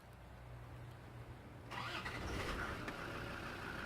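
A Land Rover Td5 diesel engine cranks and fires up promptly on the first try, then settles into a steady, moderately loud idle that carries on after the start.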